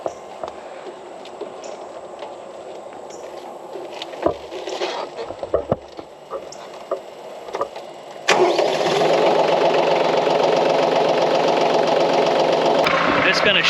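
A Branson 2515h tractor engine cranks with scattered clicks and mechanical rattles, then catches abruptly and settles into a loud, steady close-up idle that runs to the end with no pause.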